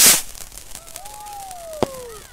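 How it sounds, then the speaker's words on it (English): Fireworks set off by a community group outdoors on a November night: a sharp burst opens, then rising whistles streak upward and a crisp crack follows, heard at moderate distance with no talk. "Welcome everybody to the fireworks that Dean, Stuart, Jake and James are setting off"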